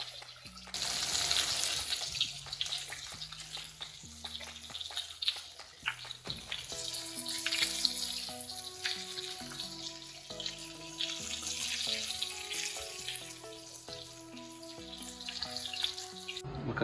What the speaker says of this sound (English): I'm making fries so I can add it to my burgers